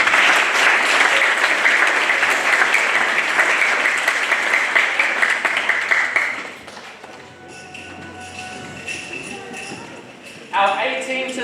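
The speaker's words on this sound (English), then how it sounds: "One more round of applause to the boys." An audience gives performers a loud, sustained round of applause at a presentation party. The applause fades after about six seconds into quieter room noise, and then a voice speaks over a microphone.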